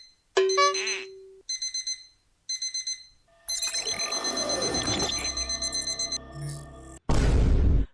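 An alarm clock rings in short repeated beeping bursts, loud and near, followed by a jumble of clattering and electronic tones, then a sharp burst of noise at the end.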